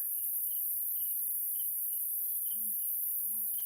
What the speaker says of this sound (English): And there's crickets.